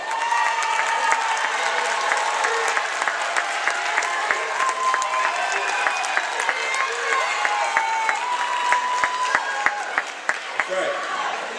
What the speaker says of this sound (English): stand up and give a round of applause to these people out here